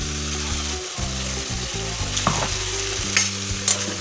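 A Bengali spice paste with sour yogurt and cashew-poppy seed paste stirred and fried over low heat for a vegetarian cabbage kofta curry, a steady sizzle with spoon scrapes and stirring strokes, up close throughout.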